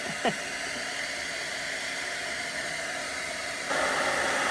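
A heat tool for embossing blows a steady, close airy whoosh like a hair dryer, running continuously and growing a little louder and brighter near the end.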